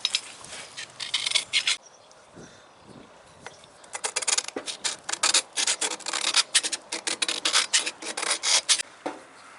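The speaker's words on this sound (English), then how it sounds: "I'm just going around that bore that seal goes in with the side of a screwdriver." A screwdriver's side scrapes around the metal seal bore of a 1997 Detroit Series 60 diesel engine, close raspy rubbing strokes in bursts with a short pause, then quickening rhythmic scraping.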